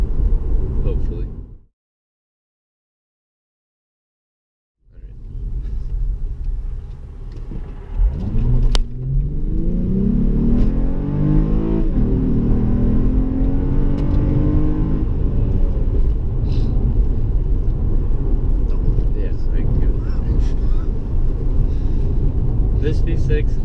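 A 2007 Acura TL with a 258-horsepower V6 accelerates hard from 0 to 60 on an Indiana road. After a brief silent gap, a loud engine roar climbs steadily in pitch and then holds a strong, continuous drone.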